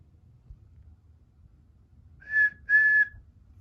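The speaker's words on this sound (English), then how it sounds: "Then he heard a whistle." A train whistle sounds two short toots over a quiet background, the second slightly longer than the first.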